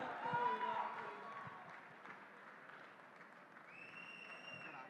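A faint, steady wash of audience applause greets director Sekhar Kammula as he walks on stage at a film event. The clapping stays soft and even throughout, with some background voices mixed in.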